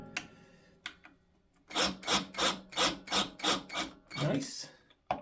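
Screws being driven slowly into the neck of a Kramer Baretta guitar, giving a series of about seven rhythmic rasping grinds, close and fairly loud, with a few sharp clicks around them.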